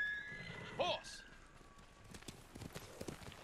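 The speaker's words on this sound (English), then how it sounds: "Horse!" A horse in the video game Ghost of Tsushima gives a short, clear neigh near the start, followed by soft scattered hoof clops over a low background.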